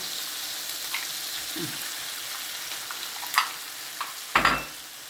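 Eggs with a little spice fry in oil in a village kitchen, a steady soft sizzle running throughout with a few small crackles and clinks of a utensil, and a sharper scrape and pop near the end, with no talking.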